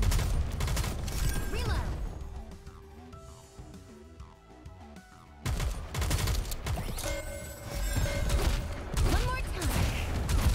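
Rapid gunfire crackles through the Nikke: Goddess of Victory game in loud sustained bursts, pausing briefly in a quieter stretch before the shooting resumes, with mechanical clatter and character voices calling out over the action.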